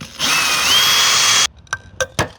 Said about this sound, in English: I'm going to put a roofing screw through the capping